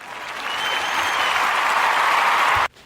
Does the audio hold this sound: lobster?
no